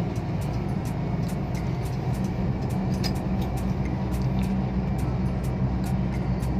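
Steady road rumble heard from inside a moving car on a straight road, a constant low engine and tire drone with faint regular ticking above it.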